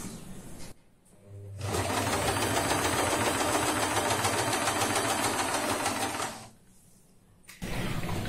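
Sewing machine stitching fabric in a close, steady whirring run of about five seconds, bracketed by brief quiet pauses and short starts.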